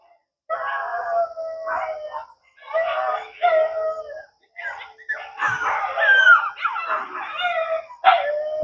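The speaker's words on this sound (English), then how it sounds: "Oh, I thought they were going to howl." Several dogs howl and yip together in long, wavering cries, fairly close, with brief pauses between bursts.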